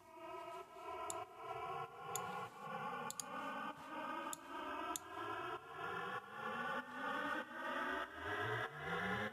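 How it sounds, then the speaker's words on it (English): An echoey vocal processed through an Ableton frequency shifter becomes a riser, with repeating tones that sweep steadily upward in pulsing waves, and faint ticks scattered on top. "I'm using the frequency shifter in Ableton to make it turn like this kind of echoey vocal thing into a riser"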